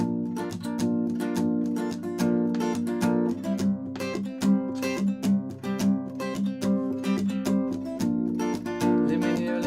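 An acoustic guitar strums the bridge chords of a song in a steady rhythmic pattern, close and clear with no voice.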